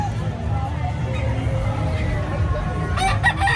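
A game fowl rooster crows at a breeders' association show in Tarlac, its call rising clearly over a steady murmur of crowd babble, with further crowing toward the end.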